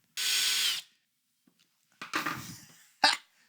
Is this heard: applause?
no